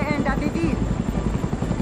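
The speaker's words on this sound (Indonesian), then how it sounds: "Nailun pergi dengan helikopter" A film helicopter's rotor thumps in a steady, rapid beat, loud and continuous, heard beneath dramatic voices and music for the whole stretch.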